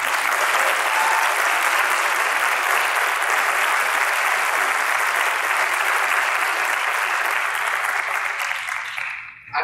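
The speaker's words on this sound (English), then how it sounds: "So would you please give them a round of applause?" A graduation ceremony audience applauds its graduating seniors at a 2020 mid-year graduation, a dense, loud wash of clapping that holds steady for several seconds before tapering off at the end.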